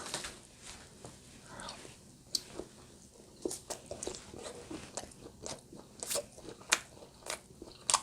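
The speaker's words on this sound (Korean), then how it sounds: "제가 밥을 안 먹어 가지고 이 핫바나 먹으면서 얘기를 해보겠습니다" Close, crisp bites and chewing on a hot bar, a Korean fish cake snack, with irregular crunchy clicks and smacks scattered throughout over quiet room tone.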